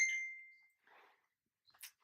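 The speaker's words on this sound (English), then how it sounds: "that's just a message on my phone" A phone message notification rings out as one clear bright ding that fades away, followed by a few faint soft clicks in an otherwise quiet room.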